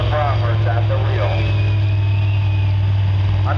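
A pulling tractor's engine runs at a low, steady drone on the grounds of a tractor-pulling event, held under a person talking throughout.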